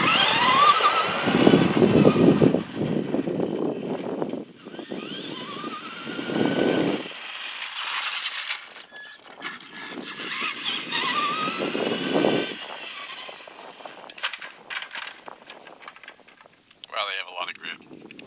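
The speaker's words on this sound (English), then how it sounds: "Let's run it on the road and see how she does." A Traxxas Stampede 2wd RC truck on belted Bandito street tires runs on a road, its electric motor whining and rising and falling in loud passes, near then farther away, with wind noise and some talk over it.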